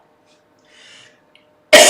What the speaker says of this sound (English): I'm gonna cough, and this is gonna hurt